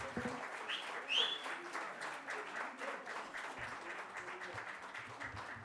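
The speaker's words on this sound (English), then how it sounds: "A louder applause, please" An audience applauds after a speech in a hall, a soft, fairly distant patter of clapping with a faint bird chirp early on.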